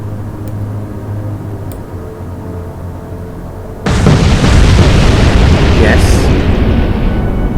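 Torpedoes in the naval game Atlantic Fleet strike and sink the ship Maori, heard as a sudden loud, rumbling explosion that continues as a dense roar after a quieter lead-in, with a single brief spoken word.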